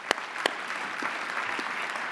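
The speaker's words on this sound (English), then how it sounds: "a round of applause for them" Audience applause at an award ceremony for a mentoring award: steady, moderately loud clapping from a crowd, with a couple of sharper individual claps near the start, and no talking over it.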